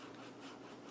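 Steady dry rubbing of a scissors handle pressed along a folded dictionary page to burnish the crease, a continuous close scraping friction with no voices.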